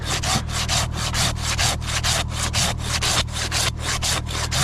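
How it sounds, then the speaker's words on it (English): A slightly dull handsaw cutting through dead white oak, steady rasping back-and-forth strokes in a quick, even rhythm, close and loud, with a low hum underneath. "done a lot of hand sawing with a handsaw"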